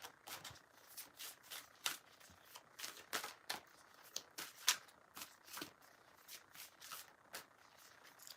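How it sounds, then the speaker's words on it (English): Deck of cards being handled and turned over at close range, a steady run of soft, quick riffles and slaps with uneven spacing, no talking. "Let's turn the cards around the right way."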